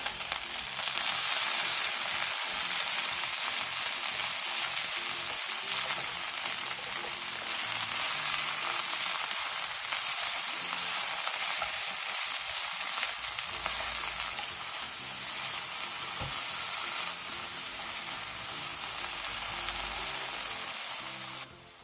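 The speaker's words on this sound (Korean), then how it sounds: "팬에 기름을 두른 뒤 부추, 다진 마늘 1스푼, 소금 3분의 2티스푼을 넣고 중불에서 부추가 숨이" Garlic chives with minced garlic and salt stir-fry in oil over medium heat, a loud, dense, continuous sizzle that eases slightly toward the end; close, with no talking.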